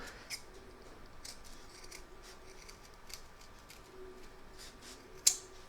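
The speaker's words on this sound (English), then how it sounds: "We're now going to trim up around this edge where the join is going to be" Scissors trim the edge of a fabric Santa applique near its stitch line, making soft, faint snips at close range with one sharper click near the end.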